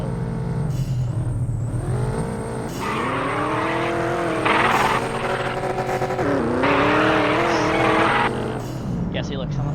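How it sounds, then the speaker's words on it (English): BMW M5 drifting in a racing video game, engine revving with loud sustained tire squeal that rises and falls in long screeching sweeps, with a voice talking over it throughout. "someone's already drifting the BMW M5"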